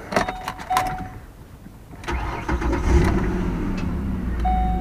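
A car engine with a low battery cranks briefly with clicks, then catches and settles into a steady low rumble close by.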